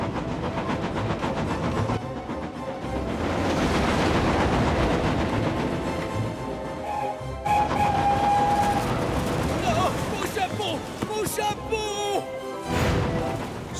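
A cartoon train engine pulls wagons fast along the rails with a loud, continuous rumble and hiss, rhythmic clatter, and brief whistle-like tones, while voices speak over it.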